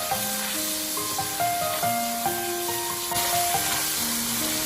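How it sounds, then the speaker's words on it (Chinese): Marinated lean pork stir-frying in hot cooking oil in a wok, a steady close sizzle with scraping stir strokes, and a few sustained musical tones ringing over it. "油热之后下入腌制好的瘦肉，再快速的翻炒，将瘦肉炒香炒散"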